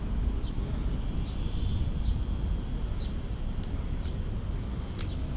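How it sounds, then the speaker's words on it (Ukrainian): Cicadas buzzing outdoors on a hot day in Spain, a steady high-pitched drone with faint chirps now and then over a constant low rumble of street or wind noise. "Тут також ці цикади."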